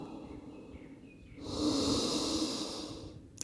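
Person breathing during a yoga session, a long, deep, airy inhale that swells and then fades, close and fairly quiet, with no talking over it.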